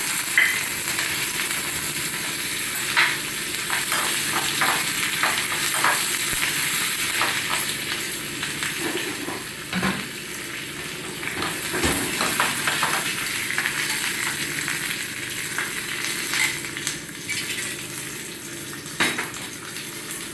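Steady crackling sizzle of cumin, curry leaves and chopped chillies in hot oil in a pan, with scattered pops and occasional stirring clicks, close and continuous throughout.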